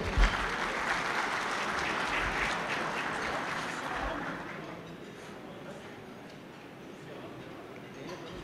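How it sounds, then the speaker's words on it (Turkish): Audience applause at a Çankırı federations gathering, a dense wash of clapping that carries strongly for about four seconds and then thins to scattered, fainter claps under a murmur of crowd noise. "ben şöyle kuvvetli bir alkış istiyorum sizlerden"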